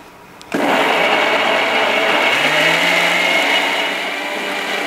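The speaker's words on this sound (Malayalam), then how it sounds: "മാങ്ങ കട്ട് ചെയ്യല്ലേ, അത് മിക്സ് ചെയ്ത് കൊടുക്കുവാണ് ഞാൻ." An electric mixer grinder blends raw green mango, switching on abruptly after a brief quiet moment and then running as a loud, steady high-pitched whir that holds constant before easing slightly at the end.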